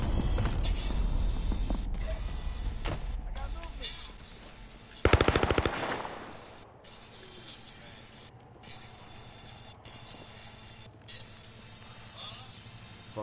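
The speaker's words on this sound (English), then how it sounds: "Is that your sentry gun?" Automatic gunfire from a sentry gun in a Modern Warfare match, a dense loud burst dominating the first seconds, then a sharp rapid volley near five seconds before fading into quieter game noise.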